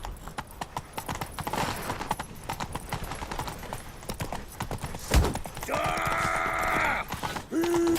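A horse in a video game, The Witcher: rapid clip-clop of hooves at a gallop, a continuous rhythmic drumming, followed by a mechanical grinding and a sustained tonal whir near the end.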